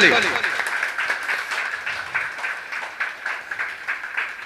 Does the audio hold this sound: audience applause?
yes